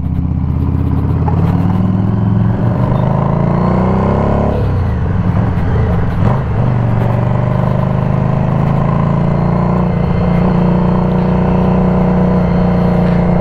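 A modified 2016 Harley-Davidson Street 500 bobber with a Revolution engine being ridden, its steady, loud engine drone rising and falling in pitch with throttle and gear changes, accompanied by constant wind rush.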